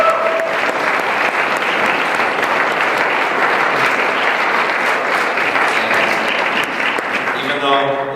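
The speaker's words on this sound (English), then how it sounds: "I think they deserve a round of applause for that" A debate audience applauds steadily and loudly, a dense wash of clapping that carries on for several seconds.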